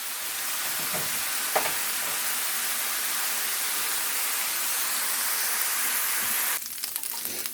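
Hot sausage fries in a pan with a dense, steady hiss of sizzling fat close by, one faint clink early on, and the sizzle shifting abruptly near the end.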